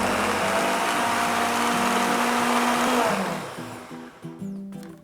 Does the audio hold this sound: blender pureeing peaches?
yes